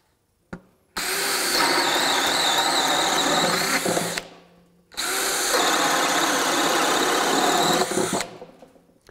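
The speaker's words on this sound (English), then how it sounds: "Here's the DCD791 with that same 1¾-inch boring bit." A DeWalt DCD791 cordless drill bores with a 1¾-inch bore bit in two long, loud sustained runs, each several seconds of steady whining motor and cutting noise, separated by a brief pause.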